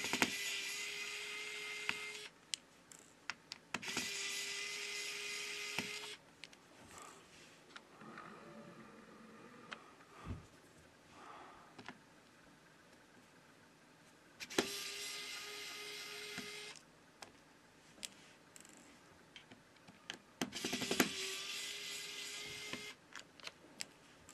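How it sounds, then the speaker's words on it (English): A small electric screwdriver works on the screws of a Poco X3 phone during repair, whirring in short bursts of a few seconds separated by quiet handling clicks, close and fairly soft. "If you like the electric screwdriver we are using"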